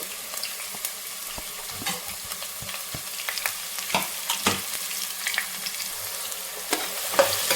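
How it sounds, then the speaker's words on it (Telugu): Sliced onions and green chillies fry in oil in a pan, giving a steady close sizzle broken by sharp scrapes and knocks as they are stirred, with no voices. "ఇవి బాగా బ్రౌన్ కలర్ వచ్చేలాగా లైట్ బ్రౌన్ కలర్ వచ్చేలాగా వేయించుకున్నామండి"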